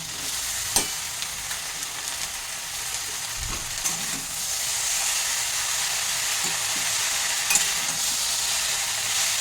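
Fenugreek leaves, cut large, washed and drained, drop into a hot pan of tempering spices and sizzle loudly, a continuous bright frying hiss with occasional stirring clicks and bumps, close and without speech.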